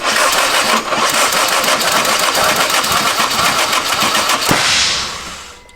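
A forged engine cranks and catches, firing unevenly and roughly as it runs loud and close for several seconds before cutting out near the end.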